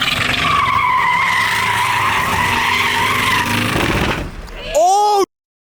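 Tesla tires spinning and squealing during a drift at a takeover car meet, a loud sustained screech with engine roar for about four seconds, then a sudden drop and a brief burst before silence.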